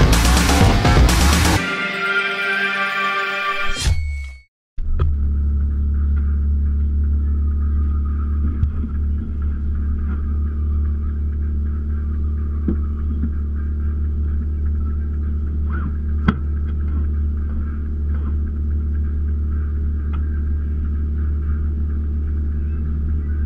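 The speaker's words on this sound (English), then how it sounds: "it's drifting my 92 RX-7 FD3S before it gets tuned." A 1992 Mazda RX-7 FD3S being drifted, heard from inside as a constant loud rotary engine drone and rumble, preceded by a brief burst of harsh broadband noise and a short dropout.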